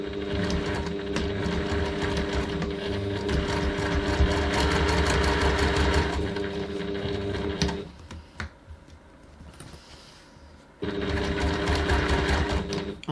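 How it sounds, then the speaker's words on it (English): A sewing machine stitches a bag flap at a 1 cm seam, whirring steadily and rapidly for about eight seconds, pausing briefly with light handling noises, then running again. "So now we're going to stitch our flap."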